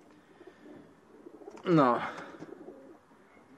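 A racing pigeon gives a single close, throaty coo in the middle, set against faint background bird sounds, while someone speaks one short word.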